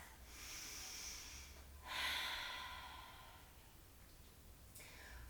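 A deep, full breath drawn in and let out during a Pilates mat exercise, as a soft airy rush that swells and fades over several seconds, close and quiet, with no talking.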